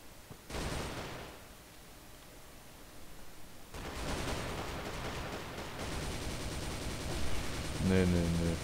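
Gunfire erupts in the video game Crossfire as bursts of rapid shots and a sustained volley, close and moderately loud over a noisy background.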